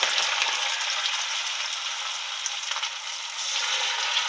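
Corn fritters (makke bhaji) drop into hot oil over a high flame, giving a steady, bright, close sizzle of deep frying with no one talking.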